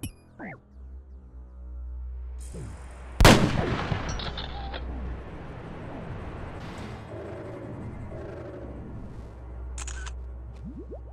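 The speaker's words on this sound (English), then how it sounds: "when I click-clack this Zarite crossbow, it does exactly that" Zaryte crossbow fired in a video game: one sharp, loud, close shot about a third of the way in, with a faint mechanical click just before it, then a long rumbling game ambience and a few soft clicks, with no speech.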